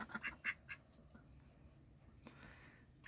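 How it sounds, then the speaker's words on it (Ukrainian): A few faint quacks from a drake and a duck in a quick cluster at the start, then quiet background rustle with an occasional soft sound. "Ось це селезень і качка."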